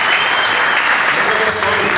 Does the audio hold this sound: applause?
yes